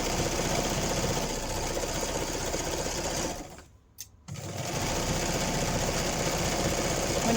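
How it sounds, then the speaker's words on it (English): Sewing machine running steadily through fabric on a kids' sewing project, a fast even whirring stitch that stops briefly around the middle when the needle is set down to turn a corner, then resumes. "Needle down, turn, and then I'm going to keep sewing"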